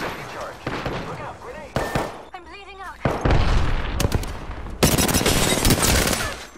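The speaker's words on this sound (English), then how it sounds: "The enemies are shooting at me." Enemies fire on the player in a video game, with loud bursts of automatic gunfire and heavy thuds in several separate volleys. A voice talks between and over the shots.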